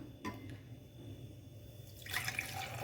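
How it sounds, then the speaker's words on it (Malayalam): Blended strawberry ice cream juice, mixed with cashews and raisins, is poured from a mixer jar into a glass. The liquid pour starts near the end, a splashing stream after a quiet stretch. "ഇപ്പം നമ്മൾ മിക്സി അടിച്ചിട്ടുണ്ട് നമുക്ക് ഗ്ലാസ്സിലേക്ക് പകർത്താം"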